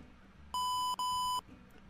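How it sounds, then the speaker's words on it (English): OpenComputers computer in modded Minecraft beeps at startup, two clear electronic tones in a row, the second slightly longer, heard alone over a quiet background. "And it beeps."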